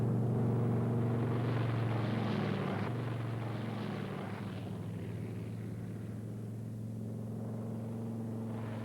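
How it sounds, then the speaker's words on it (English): A WWII P-38 Lightning twin-engine fighter roars down the runway and lifts off, a steady droning propeller and engine rumble that slowly fades as it climbs away, with no voices. "the Lightning accelerated down the runway into the wind, lifted off, and as soon as possible retracted the landing gear and raised the flaps"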